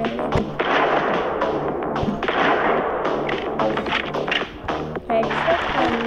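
Rapid gunfire from a shooting video game rattles in short bursts and single shots, loud and close, mixed with game sounds while a person talks.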